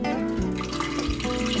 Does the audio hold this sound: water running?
yes